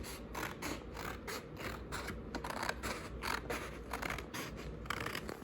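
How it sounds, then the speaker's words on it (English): Scissors snip steadily through paper while a shape is cut out for a pastel drawing project, a quick run of close, crisp cutting strokes with faint scraping between them, no voices. "Now we're going to be taking our scissors, and we're just going to be cutting it out."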